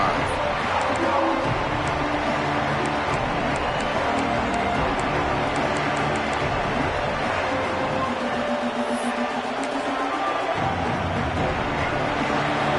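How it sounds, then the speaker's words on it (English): A loud, continuous roar of a large stadium crowd at a Tennessee versus Notre Dame college football playoff game, dense and unbroken, with scattered shouts rising through the steady wash of noise. "this crowd is fired up. Listen to this noise here"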